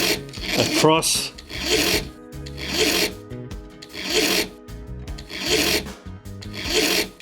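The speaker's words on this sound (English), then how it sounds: "So we align the tapered pin back in our piece of timber, and once again using our coarser file, run it" Coarse file rasping across a tapered brass clock pin held in a timber block and pin vise, five rhythmic forward strokes close up, each a bright scraping burst with brief pauses between, a faint word spoken near the start.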